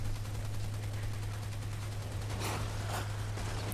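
Pistol shots in the video game Army of Two: The Devil's Cartel, a steady run of quick cracks over a constant low game hum, with a couple of louder hits near the end.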